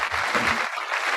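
An audience applauds together, a dense steady wash of clapping heard close and fairly loud over a brief moment at a live public talk event, with no clear voices on top.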